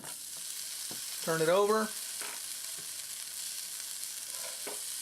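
Shredded, grated potatoes frying on a hot griddle, a soft continuous sizzle close by, broken by a brief spoken voice and a few light spatula scrapes.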